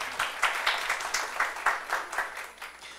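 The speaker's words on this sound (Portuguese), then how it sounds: "Pedir uma salva de palmas a ela, por favor." Audience at a public security and investment panel at a summit applauding a speaker, a soft, distant patter of clapping that stays fairly even before thinning out toward the end.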